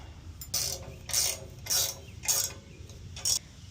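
A ratchet tightens the bracket bolts while a Johnny Bucket is installed on a Cub Cadet ZT1 zero-turn mower, giving five close, loud bursts of clicking in a steady back-and-forth rhythm.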